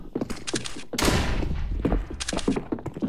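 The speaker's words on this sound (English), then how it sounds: "Throwing a grenade." A flashbang grenade going off in Counter-Strike: Global Offensive, a loud broadband burst near the one-second mark amid clattering game sounds and thuds.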